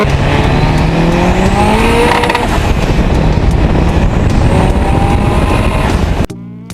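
Loud, raspy engine of a modified VW Golf Mk1 revving hard and climbing in pitch, a sustained roar that cuts off abruptly near the end.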